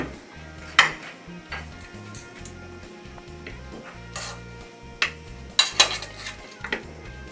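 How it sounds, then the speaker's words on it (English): Chicken wings being set onto a plate in a home kitchen, with scattered clinks and knocks of utensils against dishes, a few sharper clatters standing out over a low steady background hum. "I have a plate over here that I'm going to put the wings on."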